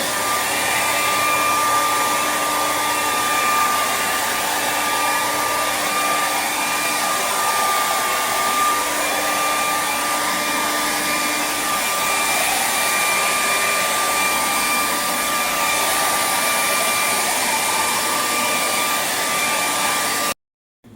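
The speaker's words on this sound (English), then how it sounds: "before I start blow drying" A hair dryer blows steadily over a freshly poured epoxy countertop coated with acrylic paint mixed with Elmer's glue. The whoosh is loud and unbroken for about twenty seconds, then cuts off abruptly.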